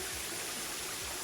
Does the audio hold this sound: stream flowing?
yes